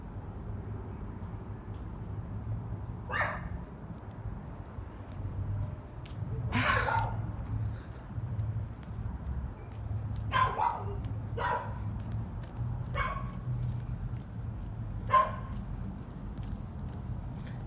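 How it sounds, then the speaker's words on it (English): A dog barks in scattered single barks and short bursts at a middling distance over a steady low background hum, outside a neighbouring home early in the morning. "I'm listening to this dog just bark and bark and bark."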